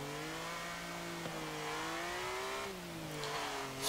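A 1939 BMW 328 engine hums steadily under throttle in Forza Motorsport 7, its pitch rising and easing in smooth waves as the throttle is worked, with no talk over it.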